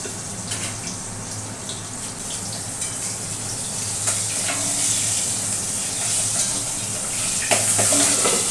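Pabda fish fry in hot oil at a home kitchen cooking for a wedding-style meal, giving a steady, dense sizzle with scattered pops and crackles. The sound is close and continuous and swells slightly toward the end.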